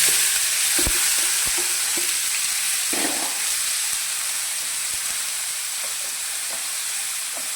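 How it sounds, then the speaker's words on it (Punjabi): Chopped onion and tomato hit hot oil with roasted cumin seeds, a loud steady sizzle and hiss close by, with occasional stirring knocks from a spoon against the pan and no speech. "ਇਹਦੇ ਵਿੱਚ ਆਪਾਂ ਹੁਣ ਜਿਹੜੇ ਪਿਆਜ਼ ਟਮਾਟਰ ਰੱਖੇ ਸੀ ਉਹ ਪਾ ਦਿੰਨੇ ਆ"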